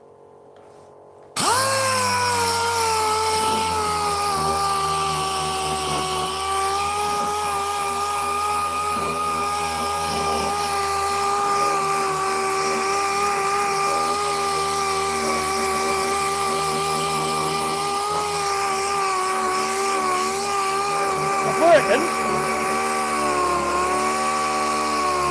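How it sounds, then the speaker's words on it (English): A power drill runs continuously on parts of a Marmot toolbox being restored, a loud steady motor whine with only small shifts in pitch and a brief bump late on, with no voices. "I'm going to have to use the drill on these bits"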